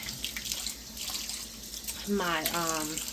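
Tap water runs briefly as a kitchen utensil is rinsed while Brussels sprouts cook in butter, a short splashing burst near the end amid background talk and kitchen noise.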